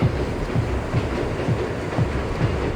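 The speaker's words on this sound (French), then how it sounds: "Le train de Brooklyn direction Manhattan." A subway train running from Brooklyn toward Manhattan in the video game Assassin's Creed Revelations, a steady loud rumble with rhythmic clickety-clack of wheels over rail joints and no voices.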